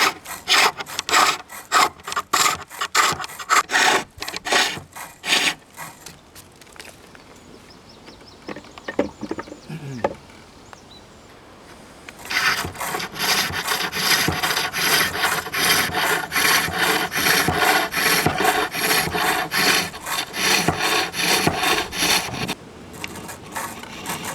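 A spindle gouge cuts a wooden spinning top on a lathe while its handle is shaped, first in a series of rhythmic scraping strokes, then a short quieter pause, then a long continuous loud rasping cut up close.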